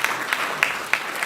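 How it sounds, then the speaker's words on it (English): Live audience at an event applauding a panelist, a short burst of dense clapping with a few sharper individual claps standing out. "Can we give him a round of applause?"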